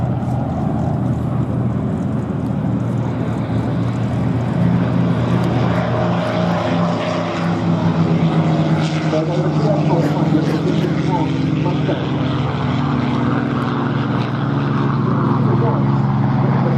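B-17 bomber running in at Duxford during an air display, its piston engines and propellers giving a loud, continuous droning roar, with a voice commentating over it.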